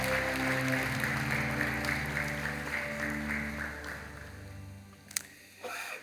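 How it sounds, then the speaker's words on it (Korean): A church congregation applauds in welcome, a steady wash of clapping over sustained musical tones that thins out and fades toward the end. "여러분께 박수로 환영하실까요?"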